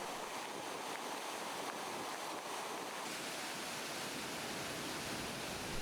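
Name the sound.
waterfall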